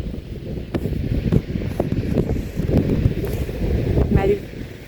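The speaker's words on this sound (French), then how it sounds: "Il y a trop de vent." Strong wind buffets the microphone on a holiday outing in Calvados, a loud continuous low rumble with gusty swells, and a voice speaks faintly beneath it.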